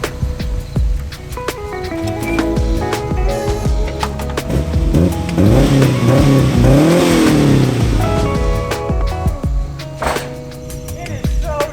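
A small Mazda mini truck drives close by, its engine revving up and down with rising and falling pitch over steady road and mechanical noise.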